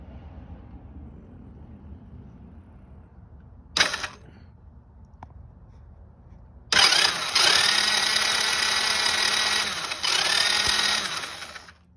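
A Coolster 125cc engine cranks over twice during a spark check, each a loud buzzing starter whir of a few seconds, after a quiet stretch with a brief click; no speech.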